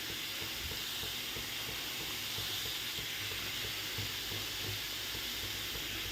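Potatoes go into a hot pan for a cabbage and ginger curry, giving a steady, close, dense sizzle and frying hiss that holds evenly throughout with no talk.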